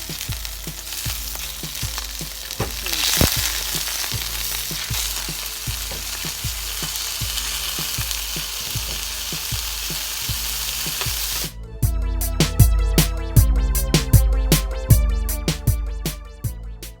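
Mojo-marinated skirt steak sizzles loudly in a hot pan after being flipped, a dense, continuous crackling hiss with regular pulses and a sharper, more spattering burst of frying near the end.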